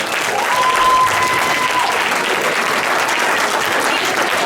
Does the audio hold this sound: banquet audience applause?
yes